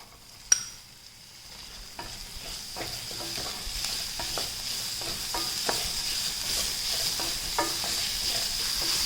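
Chopped onions and curry leaves fry in a pot for a dal dhokli one-pot meal, giving a soft, steady sizzle with intermittent stirring clicks and scrapes, rising slightly in loudness throughout with no talking.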